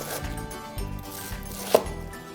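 A knife chops vegetables into large pieces on a cutting board in a regular rhythm of repeated thuds, close up, with one sharper tap near the end.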